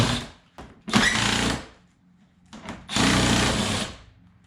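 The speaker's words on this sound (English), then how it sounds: "Next step, we remove the plastic undercover. 8mm screws." A power driver whirs as it backs out 8mm screws from the plastic undercover beneath a BMW E9X with an N51/N52 engine. There are two separate loud, close bursts of about a second each, with short quiet pauses before and between them.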